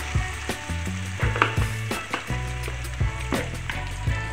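Spice masala for stuffed brinjal frying in a pan with turmeric and salt: a steady loud sizzle with repeated scraping stirs and clinks throughout, no voices.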